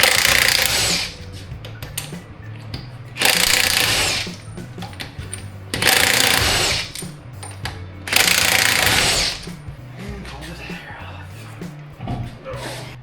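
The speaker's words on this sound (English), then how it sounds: "We got our 22 mil socket and an impact to pull this tire off." Impact wrench spinning off lug nuts with a 22 mm socket from a Ram 1500 front wheel, four loud rattling bursts of about a second each at a steady pace, close up with quieter shop noise between them.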